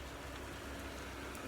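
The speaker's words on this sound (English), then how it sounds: "can you hear that bloody rain? It's absolutely whacking it down." Heavy rain pours down steadily outside a parked van, a dense, continuous hiss of drops drumming on the roof and ground close by, with no voices.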